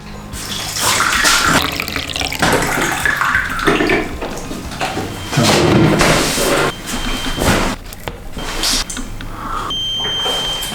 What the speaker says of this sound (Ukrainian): Поки я наливаю чайочок